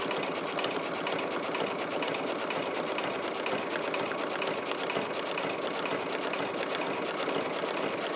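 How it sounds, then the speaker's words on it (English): An embroidery machine stitches a blanket stitch around the edges of a fabric and cardstock postcard in the hoop, a steady, continuous mechanical whir with rapid needle chatter running unbroken throughout, close and even. "I'm going to now do the blanket stitch to seal in the edges of the card and the edges of the fabric"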